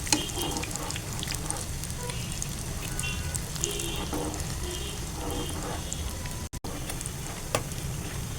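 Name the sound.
frying bullet chillies in a pan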